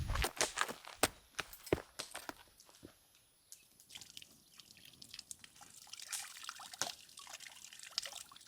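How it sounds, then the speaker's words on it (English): Water draining and trickling at a Crown Land campsite in Northern Ontario, heard as close, irregular drips and splashes with sharp clicks early on, then softer intermittent dribbling; quiet overall with no talking. "Drain the water."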